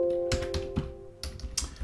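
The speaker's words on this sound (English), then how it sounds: "And let me type it in here." Someone types on a computer keyboard nearby, a quick run of distinct key clicks and taps in short bursts, with a steady background hum.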